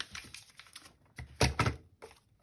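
Scissors cut paper for a cat-themed journal, giving a quick run of close, crisp snips and rustles that swells into a louder cluster of cuts midway, then tapers into a few lighter snips.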